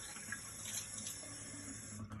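Tap water runs steadily over an eggshell being rinsed in a sink, a soft, continuous splashing hiss heard close and quietly with no voices.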